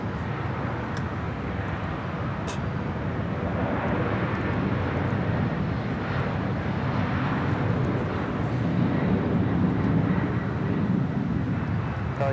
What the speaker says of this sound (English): 232 coming in from Cincinnati, a 777 freighter. Now taking off on 25 right